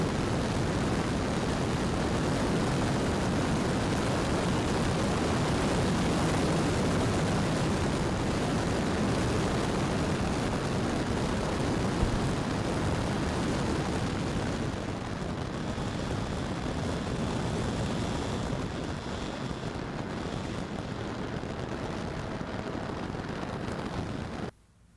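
A Timber X airplane passes overhead, its broad steady engine roar filling the scene for about twenty-four seconds before cutting off abruptly at the end, with wind rumbling across the microphone.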